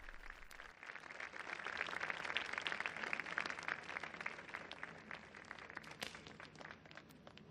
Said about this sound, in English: receive a round of applause from those present